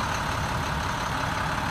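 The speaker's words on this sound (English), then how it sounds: "This particular one has the DT466 engine, which is basically a non-emissions inline six-cylinder" A non-emissions International DT466 inline six-cylinder diesel in an International CXT pickup idles with a steady, close, even rumble that holds constant throughout, with no talking.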